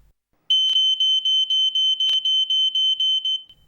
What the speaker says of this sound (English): When the smoke threshold is exceeded, the multi-sensor alarm will sound and the alarm LED will be activated.